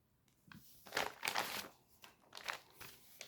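A paper envelope with an unfranked stamp, sealed with tape, is handled and opened up close, giving soft, irregular crinkling and tearing rustles in several quiet bursts.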